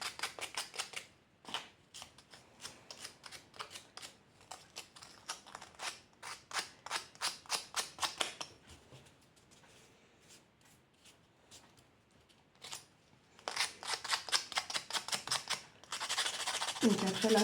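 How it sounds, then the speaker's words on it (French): Sandpaper rubs over a handmade Christmas decoration to round and shape it, making rhythmic scratchy strokes in quick bursts, then a quieter pause before faster, denser strokes resume close up. "avec votre papier à poncer"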